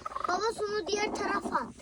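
Hens in a coop call out in a quick run of loud, close, tonal clucks and squawks, several overlapping cries filling about two seconds with no talking.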